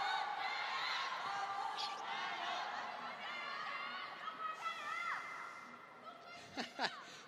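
Table tennis arena crowd at a men's singles final between rival fan groups, with steady chatter and cheering throughout, a few whoops and shouts near the end.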